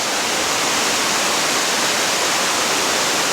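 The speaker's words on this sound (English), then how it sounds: "Righto, we've arrived at Dinner Falls." Dinner Falls in the tropical north Queensland rainforest rushes with a dense, constant roar of falling water, loud and close, steady throughout and without any talk.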